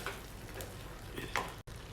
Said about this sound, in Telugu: పచ్చడి అంతా కూడా మరొకసారి బాగా కలిసేటట్టు మిక్స్